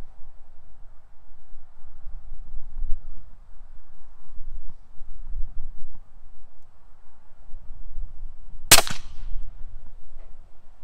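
A suppressed Barrett M107A1 rifle fires a single subsonic .50 BMG round outdoors, giving one sharp, short crack over faint wind and background rumble.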